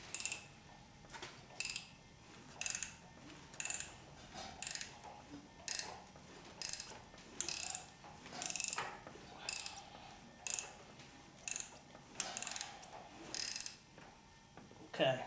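A ratchet tightens rocker arms on an LS engine in a boosted C6 build, giving repeated short bursts of rapid clicking close up in a steady rhythm, with brief pauses between strokes.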